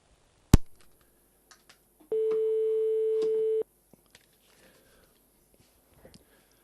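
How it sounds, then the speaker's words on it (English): An international phone call to France: a loud click, then a single sustained electronic ring tone of about one and a half seconds on the line, followed by quiet with small faint clicks. "this is going to be another one of these really expensive phone calls"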